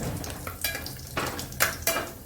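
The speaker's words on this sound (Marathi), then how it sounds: "तमालपत्र टाकलं, वेलची, मोठी वेलची, दालचिनी, लवंग आणि छोटी वेलची थोडीशी तेलावरती परतून घेऊ" Bay leaf, cardamom, black cardamom, cinnamon and cloves fry in hot oil for veg pulao, a soft sizzle broken by several bright bursts of stirring and utensil scrapes against the pan.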